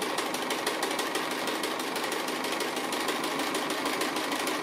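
A sewing machine stitches an applique outline with dark grey thread, a continuous fast, even buzzing hum, close and steady throughout with no talk.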